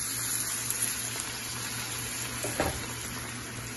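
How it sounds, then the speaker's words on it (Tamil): Cauliflower frying in a pan with turmeric sizzles steadily at close range, then a splash of water poured in causes a brief sharp hissing burst before the sizzle continues. "சேர்த்துட்டு கொஞ்சமா தண்ணி விட்டு இதை குக் பண்ணிக்கலாம்"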